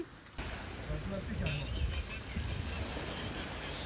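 Steady rain pours down outdoors where people are working, a dense continuous hiss close by with no clear voices over it.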